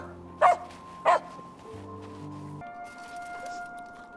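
A puppy gives two sharp close barks, spaced about half a second apart, over quiet background music.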